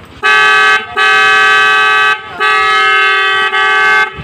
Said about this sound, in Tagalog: Pwede ba yung nay horn sa ating NMAX or Aerox?